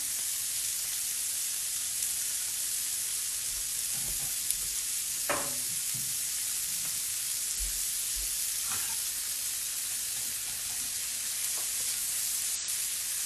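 Vegan burgers frying in a pan with all-purpose seasoning, a constant dense sizzle and hiss running throughout, with a few faint scrapes and taps from a utensil, no talking.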